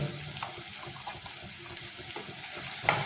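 Fresh cashew nuts and tomato sauté in a pan with turmeric and asafoetida for a Malvani-style dish, giving a soft steady sizzle broken by several quick scraping stir strokes. Close and moderate in level, with no talking.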